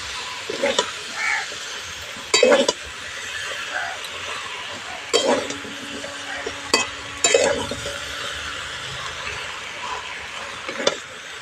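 Spinach is stirred and mixed in a pan with a spoon, making several short scraping, sizzling strokes at irregular intervals, with a voice speaking at times between them.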